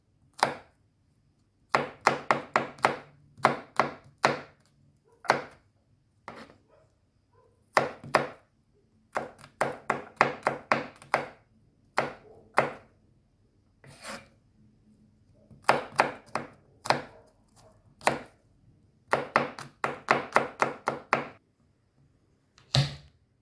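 Garlic cloves are chopped with a knife on a board in quick clusters of sharp, crisp knocks separated by short pauses, close and clear with no talking.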